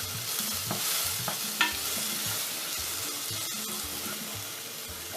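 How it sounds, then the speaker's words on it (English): Ingredients for a green sauce fry in a pan, giving a steady sizzle with intermittent stirring scrapes and clinks, close and moderately quiet, with no talking. "Just fry this for a few minutes."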